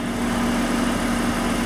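A steady, smooth idle from a 2002 BMW E39 525i engine with a low, even hum, continuous and close, no voices.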